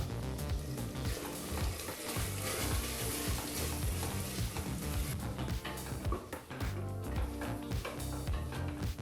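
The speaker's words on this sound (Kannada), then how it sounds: "ಹೀಗಿಲ್ಲಿ ಟೊಮೊಟೊ ಹಣ್ಣನ್ನು ಸಹ ಚೆನ್ನಾಗಿ ಫ್ರೈ ಮಾಡಾಯಿತು" Tomatoes fry in a pan for palak rice, giving a continuous loud sizzle with scraping stirring throughout and no talking.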